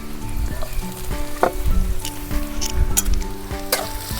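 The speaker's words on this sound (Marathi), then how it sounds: "तर आता याच्यामध्ये ना कांदा टाकून घेते तर आता कांदा टाकून घेते" Onion frying with garlic in a pan, a moderate crackling sizzle broken by clinks and scrapes of stirring at an uneven pace.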